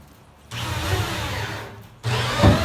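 A heavy duty Milwaukee 1/2 inch drill on low gear drives screws, whirring in two close, loud bursts separated by a short pause, the second ending in a straining grind.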